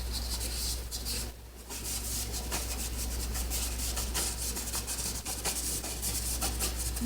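A brush scrubs white oil paint thinned with paint thinner onto a canvas seascape, a steady close rasping rub with rhythmic strokes throughout and no talking.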